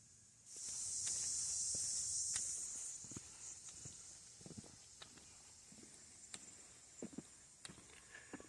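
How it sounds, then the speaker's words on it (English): Cicadas drone loudly in late-summer woods, a dense high buzz that holds for a couple of seconds then fades, followed by scattered footsteps and rustling on the ground. "Lots of cicadas everywhere I go this year."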